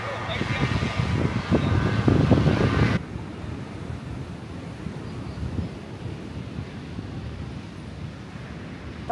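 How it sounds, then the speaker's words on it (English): Strong wind at Varkala Beach in Kerala, India, buffets the microphone in loud, rumbling gusts, dropping abruptly to a steadier, softer blustery roar for the rest of the clip. "It's pretty windy right now."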